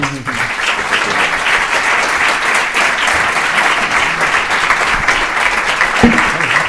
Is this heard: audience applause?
yes